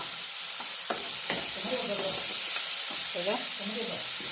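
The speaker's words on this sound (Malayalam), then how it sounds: "ഇതിനകത്തേക്ക് സവോള അതിട്ട് കൊടുക്കുക" Sliced onions sizzle in a hot pan and are stirred, giving a steady, close frying hiss with a few scraping strokes. A faint voice murmurs briefly underneath.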